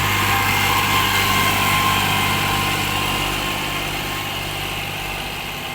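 A loaded tractor engine pulling out of a pit runs steadily at close range, a continuous droning hum with a slight rattle that fades a little toward the end.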